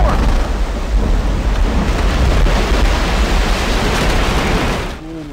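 Heavy thunderstorm in the zombie shooter game Left 4 Dead 2, a loud, continuous roar of rain and rolling thunder that fills the scene, then drops off abruptly near the end.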